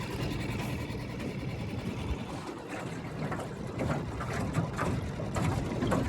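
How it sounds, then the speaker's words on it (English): Suzuki DF6A 6hp outboard motor trolling slowly on a boat, a steady low engine drone with water splashing against the hull, fairly quiet and continuous, with no talking. "I'm just gonna troll around nice and easy. She's doing real good. Runs quiet."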